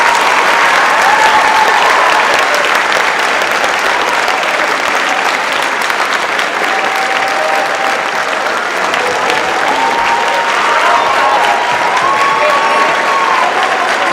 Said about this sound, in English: I'd like to have a nice big round of applause for these guys that are up here